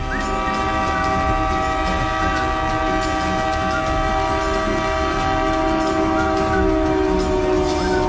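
A train on a new railway line in Sikkim rolls steadily past, its horn sounding in a long sustained tone over rumbling wheels and faint clicking from the track, loud and close with no talk.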